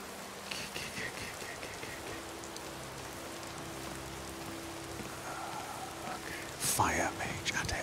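Rain falls in the Skyrim video game as a steady soft hiss of drops, with faint game sounds and a low voice underneath. A brighter burst of effects rises near the end.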